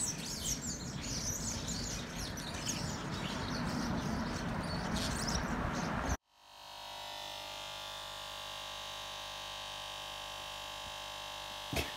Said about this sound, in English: I think the birds have found somewhere to play.